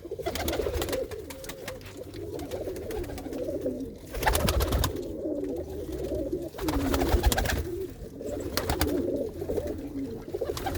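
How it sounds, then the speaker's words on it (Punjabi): Pigeons on a house rooftop coo in low, throaty repeated calls, several birds overlapping close by, with soft rustling and bursts of louder cooing throughout. "ਆਪਣੇ ਕਬੂਤਰ ਜਿਹੜੇ ਤੁਸੀਂ ਦੇਖ ਰਹੇ ਹੋ"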